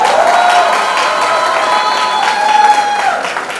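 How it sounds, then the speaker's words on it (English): College event audience applauding, loud sustained clapping mixed with crowd cheers and a few shouts, tapering off slightly toward the end. "a big round of applause for your principal"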